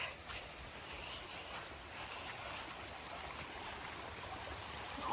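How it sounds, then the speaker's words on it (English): Steady broadband rushing of storm flood water flowing out over farm fields, a constant wash of noise with no voices, moderately quiet throughout. "All that water is coming out the other side over here on the goat fields."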